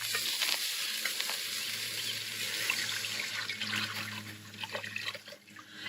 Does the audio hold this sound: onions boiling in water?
yes